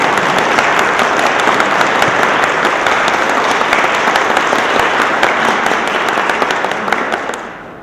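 Sustained loud applause from a large audience welcoming Governor Tom Ridge at a political gathering, a dense steady clapping that fills the whole span, then fades at the end.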